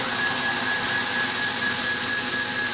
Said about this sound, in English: Darn compressor makes a lot of noise.